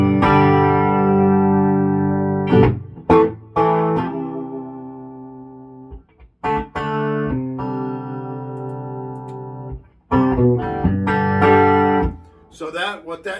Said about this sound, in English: But in this one, it happens to have the reverb on the power section of it.